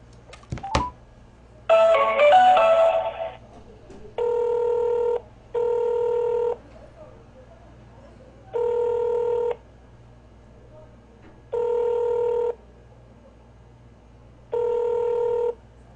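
A phone call to an errand service: a short burst of keypad dialing, then a two-tone ringback that repeats about five times at steady intervals, clear and close with no talking.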